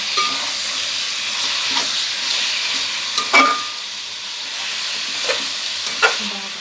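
Non-vegetarian pieces deep frying in oil over high heat, a steady broadband sizzle with a few spoon scrapes and clinks as they are stirred and turned, close and continuous.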